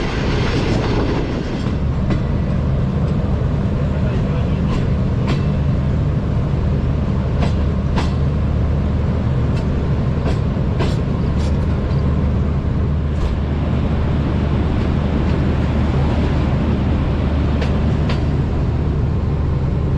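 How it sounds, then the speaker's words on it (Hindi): A loaded passenger train, about 462 tons on the Pindi to Lala Musa section, runs through Lala Musa junction, heard from inside the guard compartment as a loud, continuous rumble with repeated clickety-clack wheel knocks throughout. "दोस्तों ट्रेन अभी हमारी पास थ्रू हो रही है लाला मूसा जंक्शन से।"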